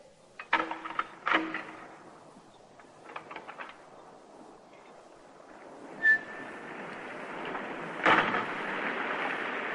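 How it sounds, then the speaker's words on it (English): Heavy rain falls at night, a steady broadband wash that builds through the clip, with a couple of sharp louder bursts and a brief tone rising over the downpour. "Raining like hell, it is."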